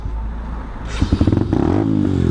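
Video-game motorcycle engine, a bike that tends to stall, sputtering low then revving up in a rapid series of close bursts before holding a steady loud drone.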